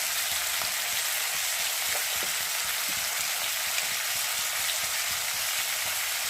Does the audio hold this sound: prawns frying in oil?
yes